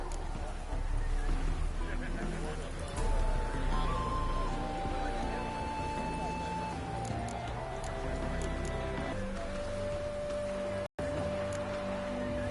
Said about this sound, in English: The horses are saddled.